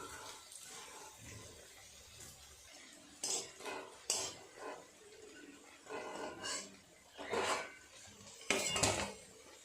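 A spatula lifting fried leafy-green fritters out of a pan, with several scraping clatters and metal knocks over a quiet background.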